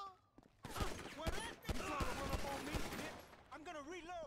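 Gunfire in the video game Grand Theft Auto V: a rapid string of loud shots and bursts, densely packed over game noise and effects, ending in a quieter warbling tail.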